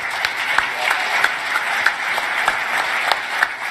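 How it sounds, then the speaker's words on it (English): Conference audience at a crypto summit breaks into sustained applause, a dense steady wash of many hands clapping with a few sharper individual claps standing out. "Let's give these guys a big round of applause."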